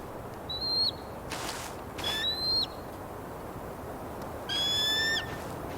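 In the video game Tell Me Why, an eagle gives three shrill, descending whistled cries, spaced apart over a steady outdoor hiss of wind and ambience.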